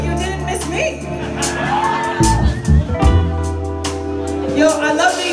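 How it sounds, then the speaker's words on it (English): A live concert crowd at The Empty Bottle in Chicago cheers, whoops and shouts in a loud, sustained burst, with bursts of hollering rising over a steady roar and some talk mixed in. "Give yourselves a round of applause."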